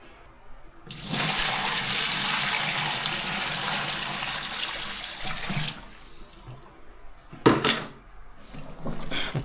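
More water is poured into a Sponono portable washing machine with a bed sheet inside, giving a loud sustained splashing stream that fades out, followed by a brief knock and a short second gush.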